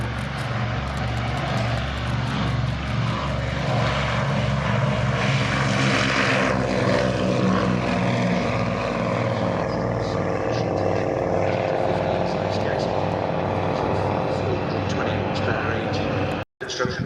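A restored Avro propeller aircraft with a mostly fabric-covered airframe roars steadily and loudly at close range during an airshow at Shuttleworth, its engine drone continuous, with a commentator talking over it.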